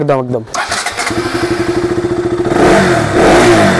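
A 2018 KTM RC 200 BS4 sport motorcycle starts, then settles into a loud, close, rhythmically pulsing single-cylinder idle before revving up sharply near the end.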